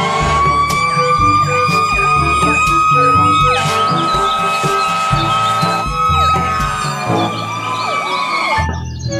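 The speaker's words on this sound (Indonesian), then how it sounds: "Yang ini ada mobil pemadam kebakaran." A toy fire truck plays a loud, continuous electronic wailing siren with repeating rising and falling tones, accompanied by steady beeping chimes close to the microphone.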